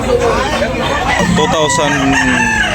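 A rooster crows at a Tabunok, Talisay market, the call rising over loud crowd babble and talk nearby, with more fowl sounds mixed in.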